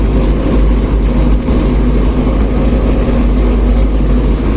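An MTZ 82.1 tractor ploughing about 20 cm deep with a Bomet plough in fifth to seventh gear, its engine a loud, steady low drone that continues without a break from start to finish.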